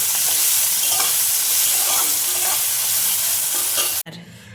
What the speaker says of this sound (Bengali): এদিকে শাকের জন্য বেগুন ভাজা বসিয়ে দিয়েছি